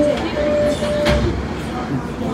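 An MBTA subway train runs between North Station and Malden, giving a loud steady rumble and rattle with a brief high wheel whine near the start, heard from inside the car.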